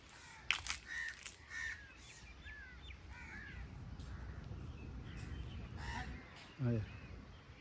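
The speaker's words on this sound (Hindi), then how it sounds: "ये कौवा शोर कर रहा है हमारे पीछे पीछे" A crow caws several times in quick succession, then calls again later, over a low outdoor rumble.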